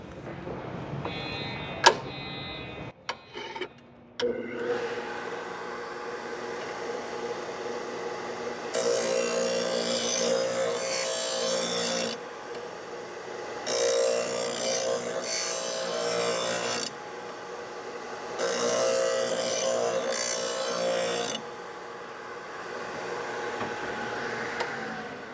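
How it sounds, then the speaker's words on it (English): A Magna Matic sharpener grinds a mower mulching blade in three loud, rasping passes of several seconds each, with quieter gaps between them, after a few clanks of setup. "I'll be just putting some downward pressure as we grind."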